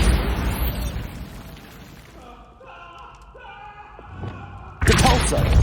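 Bombarda spell explosion in the video game Hogwarts Legacy: a soft magical whoosh with chiming tones building into a sudden loud booming burst near the end, alone without talk.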